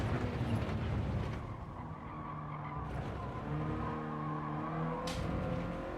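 A race car in a racing video game, close and loud, its engine note a continuous tonal drone that rises and shifts pitch under throttle, with harsh tire scrubbing and skidding noise in the first second.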